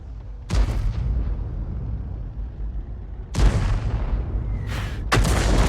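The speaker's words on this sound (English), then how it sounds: "Oh, fantastic shot! Smacked it onto the turret." Tank cannon fire in a video game, three heavy booming shots spaced a couple of seconds apart, each a loud blast trailing into rumble, with the last one striking an enemy turret.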